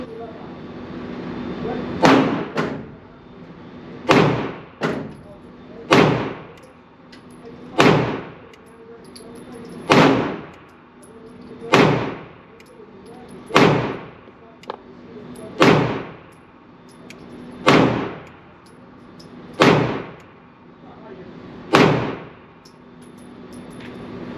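Twelve sharp gunshot reports ring out at a steady pace of roughly one every two seconds from an inexpensive $200 gun being test-fired, each crack loud and followed by a short decaying tail.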